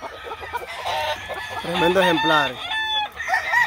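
An ash-grey gamecock clucks and crows close by, its crow rising in clear harmonic waves through the middle, while someone speaks briefly over the bird.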